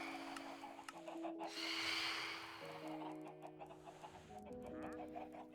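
Chickens in a video game cluck and squawk in short bursts at moderate distance, mixed with a steady, tonal game soundscape throughout.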